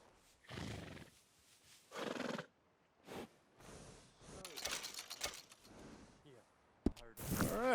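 In Red Dead Redemption 2, a workhorse gives several loud breathy whinnies and snorts in separate bursts, with quiet gaps between them and a sharp burst near the end.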